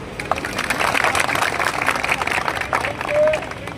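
Applause from a crowd of protesters at a demonstration in Gandhinagar, a dense steady clapping that fills the clip at fairly even loudness, with a brief swell near the end.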